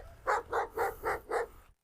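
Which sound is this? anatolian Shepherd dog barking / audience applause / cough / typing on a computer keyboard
anatolian Shepherd dog barking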